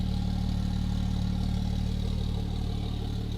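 A Porsche 911 Turbo engine idles steadily with a low, even rumble and faint mechanical clatter, continuous and close throughout.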